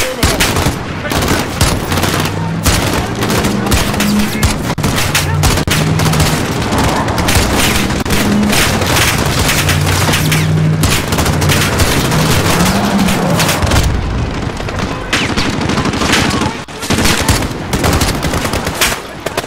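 A grenade blast and gunfire in the video game Call of Duty: Modern Warfare. Loud, dense, rapid bursts of automatic fire and heavy booms go on almost without pause, with brief voices at times.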